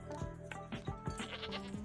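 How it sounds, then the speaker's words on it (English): A goat bleats from a TV episode, a run of repeated wavering bleats in quick succession, loud and close, with no talk over them. "Nope, a goat."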